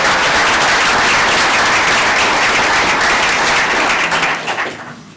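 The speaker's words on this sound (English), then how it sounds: "I think that deserves a big round of applause" Loud, dense applause from a crowd at a town board of aldermen meeting, sustained for several seconds before fading out at the end.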